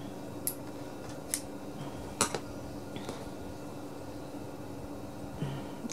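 Scissors trimming craft paper for an altered button, a few sparse quick snips spaced seconds apart against a quiet room hiss, no talking.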